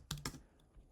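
Two quick keystrokes on a computer keyboard in an office, close and crisp, then a soft faint tap and quiet.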